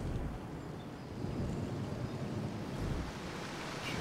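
Steady, broadband rushing of waterfalls in the Earth's Gift area of the Black Shroud in Final Fantasy XIV, a continuous even roar with no voices over it.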